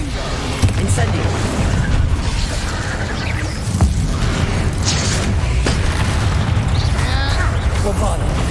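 Spell blasts going off in Hogwarts Legacy gameplay, repeated booms and bursts over a dense, loud battle din while a voice shouts spell names throughout.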